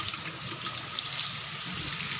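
Water pours steadily onto a newly planted vegetable cutting of Ceylon spinach, a continuous close splashing trickle with no voices.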